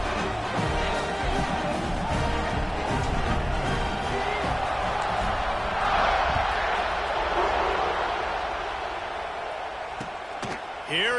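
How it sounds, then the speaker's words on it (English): A football stadium crowd roars and buzzes after a touchdown run against Arkansas, a broad sustained cheer with whoops rising and falling under a commentator's voice. "this crowd is buzzing after that last score"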